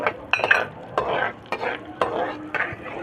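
Whole cardamom, cinnamon and cloves fry in melted fat as a spoon stirs and scrapes the pan, with repeated sharp clinks and bursts of sizzle at a close, uneven rhythm.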